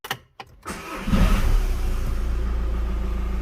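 Volkswagen Jetta Mk5 (2008) engine cranking briefly, then catching and settling into a steady, loud idle close by after an oil cooler housing gasket job.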